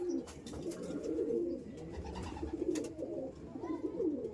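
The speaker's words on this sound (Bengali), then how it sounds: "এই দেখুন পায়রা" Chotial pigeons of the Kolkata breed coo in a steady, throaty stream, several birds overlapping close by with soft rolling calls and no talk over them.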